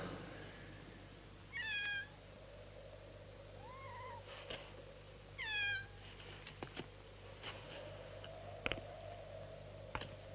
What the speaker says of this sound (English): I told you I could hear a black cat.